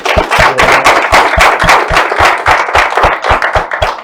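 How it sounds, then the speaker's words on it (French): A studio audience on a French-language current-affairs broadcast claps for a guest. The sound is loud and dense, with a strong, regular rhythmic beat running under it for about four seconds, and no one speaks. "On peut l'applaudir là."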